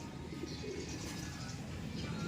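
Racing pigeons coo softly and continuously at a distance during a derby, with some faint background noise.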